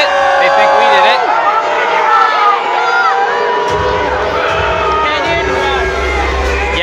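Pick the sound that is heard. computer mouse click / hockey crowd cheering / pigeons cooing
hockey crowd cheering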